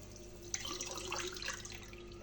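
Water poured from a cup into a cooking pot splashes softly and briefly, a faint, close trickle over quiet room noise.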